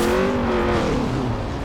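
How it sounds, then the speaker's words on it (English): Honda VTEC engine in the racing game Forza Horizon 4 revs high and steady, a loud buzzing tone that stays strong for under two seconds with no talking. "the VTEC sound is so good"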